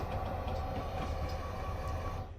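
A CP SD60 locomotive hauls a loaded ethanol train of tanker cars with a box car and buffer car in Train Sim 22, a steady rolling rumble of wheels on rail with a faint clatter, continuous and fairly quiet.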